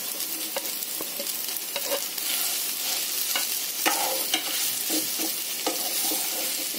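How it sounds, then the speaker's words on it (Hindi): Potatoes fry in a pan of roasted spices, a steady close sizzle broken by the scrape and clatter of a spoon stirring, with no talking. "अब हम इसमें आलू डाल लेते हैं और इसे अच्छे से पका लेते हैं।"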